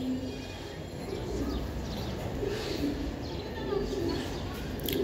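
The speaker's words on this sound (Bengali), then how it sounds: "দেখছেন কবুতর, এত বড় একটা কবুতর সাইজের" High-flying Giribaz racing pigeons coo softly in a quiet space, with low, intermittent murmuring calls over faint background noise.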